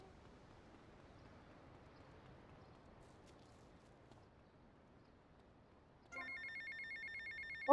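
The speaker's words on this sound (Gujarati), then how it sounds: "ફોન આવ્યો કોકના" An electronic telephone ring in the video game GTA Vice City starts abruptly after a long stretch of quiet low background hum, repeating in a steady trill near the end.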